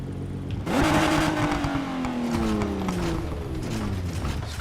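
A supercharged American muscle car engine in Need for Speed Heat revs hard, its deep rumble climbing and then holding steady through a loud, continuous drone with no voices.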